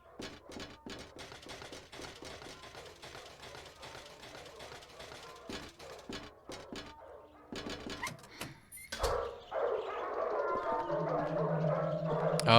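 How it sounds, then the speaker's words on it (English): Dogs bark from a pet shop in the horror game Silent Hill 4: The Room, a series of faint, distant sharp barks and clatter that give way to a louder, denser noisy passage near the end. "So we can hear dogs barking"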